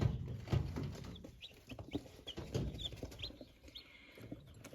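Soft, high cheeps of newly hatched incubator chicks come in short bursts over low clucking and rustling nearby.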